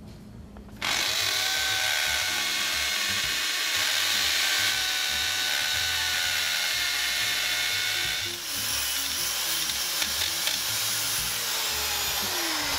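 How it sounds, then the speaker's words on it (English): A power drill bores into a concrete wall with a loud, steady grinding roar that starts abruptly and runs continuously, with a brief dip partway through and no talk. "the drill can be really loud while you're drilling in"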